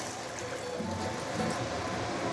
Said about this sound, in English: Next thing is put part of the chicken stock.